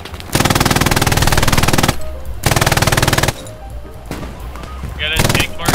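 Machine gun fire in the World War II shooter game Hell Let Loose: two loud, rapid sustained bursts close by, separated by quieter battlefield noise, with a further burst of firing near the end.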